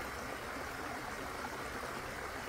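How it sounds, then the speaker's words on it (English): Waterfall footage plays through a single Bluetooth speaker, giving a steady, even rush of falling water that stays constant and fairly soft throughout, with no talk. "Listen to the sounds of the waterfall."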